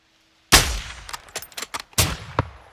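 Gunfire in the Call of Duty: Modern Warfare II (2022) campaign, a sniper rifle shot cracking loud and close after a moment of silence, followed by a quick run of sharper shots and a final report.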